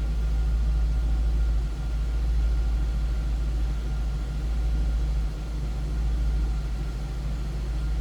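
A 2002 Ford Thunderbird's 3.9-liter V8 runs steadily at idle, a low even rumble with no voices.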